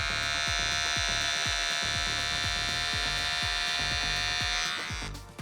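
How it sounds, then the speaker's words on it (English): An electric beard trimmer outlining a beard gives off a steady, close, loud buzzing drone, its clicks and strokes pulsing rhythmically before it cuts off near the end. "Then I'm going to draw around that shape with the trimmer."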